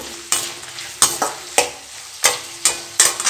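Guava, onion and tomato sautéing in a pan, with loud, close, rhythmic spatula scrapes about every half second over a light sizzle.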